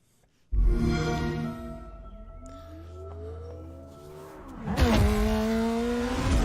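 A McLaren Senna in Forza Horizon 4 bursts into a loud engine roar that rises and falls through gear changes, then surges again with a sharp rev near the end.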